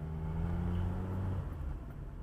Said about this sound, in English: It's a Toyota Sienna, and it's an Arizona plate